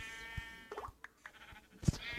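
Sheep in a hardcore survival video game give a couple of short bleats amid clicks and game sounds, close and moderately loud.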